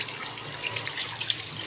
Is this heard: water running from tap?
yes